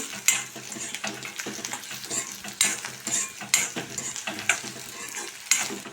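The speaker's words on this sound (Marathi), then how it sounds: "धने आलं आणि लसूण छान परतून झाले आहे" Coriander, ginger and garlic fry in hot oil for a spicy Maharashtrian misal curry, a steady close sizzle punctuated by repeated scrapes and clinks of a spatula against the pan.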